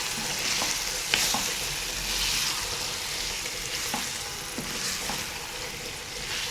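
Chicken masala is stirred in a hot pan, a steady soft sizzle broken by occasional scraping clicks of the spoon, faint and close with no voices.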